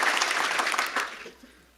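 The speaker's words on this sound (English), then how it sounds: "I want to give an applause and thanks to all of our partners to make this work." Audience applause at a keynote presentation, a broad wash of clapping that starts fairly loud and fades away over under two seconds.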